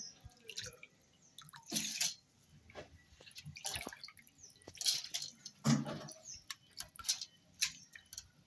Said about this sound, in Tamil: கழுவி வச்சிருந்த உளுந்தோட உளுந்தை மிக்சி சாரில் போடுறேன்.